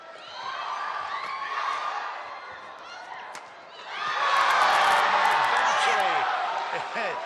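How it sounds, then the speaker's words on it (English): A crowd at a badminton women's doubles final cheers and whoops, swelling to a louder roar partway through, while a commentator talks over it. "Listen to the crowd."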